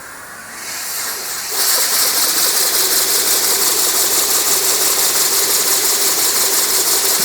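A 3D-printed rotating tip jet with labyrinth seals, fed with air at 40 psi, runs with a steady, loud, close hiss that jumps in level after a second and then holds constant.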